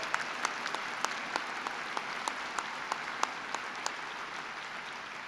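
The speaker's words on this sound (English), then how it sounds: "You want to clap on that one?" An audience claps at a university computer science graduation ceremony, a steady crackle of many hands with sharp individual claps standing out, moderately distant and continuing without a break.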